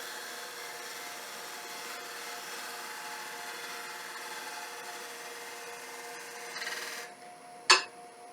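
A woodturning gouge makes a slice cut on a wooden bowl spinning on a lathe, a steady hissing scrape with a low motor hum, ending in a brief sharp knock.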